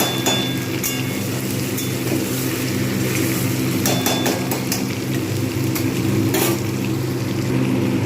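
Chicken pieces frying in a pan over medium heat for biryani give a steady, dense sizzle with a constant crackling hiss throughout, close and fairly loud, with no voices.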